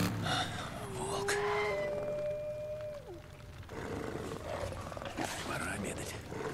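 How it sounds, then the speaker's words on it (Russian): A wolf in the open-world game Days Gone lets out a long, drawn-out howl that rises and then slides down, with growling and grunting noise around it and game ambience behind. "Волк."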